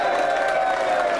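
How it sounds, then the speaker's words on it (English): Falkirk football supporters at a 2002/03 match against Arbroath raise an ironic cheer after Arbroath pull a goal back, a brief, steady crowd roar with a droning tone running through it. "Even an ironic cheer from the Falkirk supporters."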